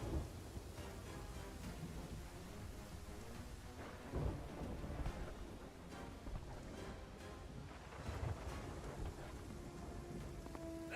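Steady rain pours through a Sea of Thieves storm as thunder rumbles from lightning striking a spire, with a few louder booms standing out above the constant downpour.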